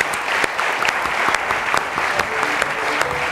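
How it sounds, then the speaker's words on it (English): A quiz competition audience claps steadily for departing student contestants, dense close applause with sharp individual claps throughout and no talking. "Let's give them a big round of applause."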